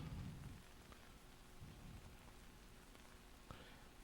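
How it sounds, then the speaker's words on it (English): Persistent rain falls as a steady, faint hiss with low rumbling at the start. A soft tap stands out near the end, and no voices are heard. "it was still raining"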